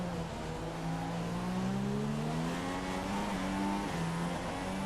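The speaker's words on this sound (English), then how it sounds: "little Renault engine holding its own to a degree as we go around the outside of Perez and take that place" Renault-engined Formula 1 car racing in F1 2016 at the Canadian Grand Prix, a steady high-revving engine drone with slowly rising pitch as it accelerates, loud and continuous with other cars faintly around it.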